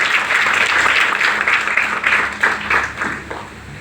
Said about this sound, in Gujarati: બિપિન ગામિત સર માટે પહેલા એકવાર જોરદાર તાળી થઈ જાય